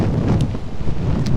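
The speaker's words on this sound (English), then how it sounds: "the wind has really picked up" Strong wind buffeting the microphone near a mountain summit, a loud low rumbling roar with uneven gusts throughout.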